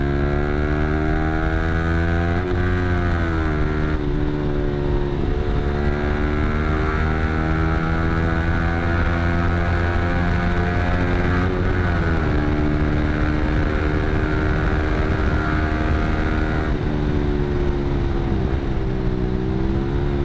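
Motorcycle fitted with an aftermarket exhaust speeds through a new underpass, its loud, steady engine drone rising and shifting in pitch as it accelerates and changes gear, close and continuous throughout.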